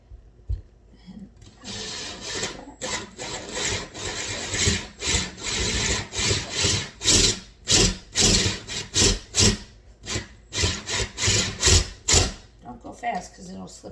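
A hand drill bores a hole into a piece of wood, starting after a quiet moment and continuing as a series of loud, grinding bursts in uneven rhythm, close by, with brief pauses between pushes.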